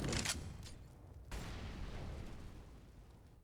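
Incendiary grenades bursting and burning in Counter-Strike on the Mirage map during a professional match: a sharp pop, then a second whooshing ignition followed by a steady crackling hiss of flames that slowly fades, fairly quiet.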